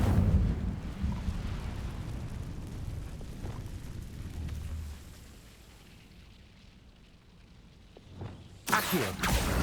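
A fire spell cast in Hogwarts Legacy on PS5 erupts with a deep, rumbling burst that fades to a quieter stretch before a sharp crackling flare near the end.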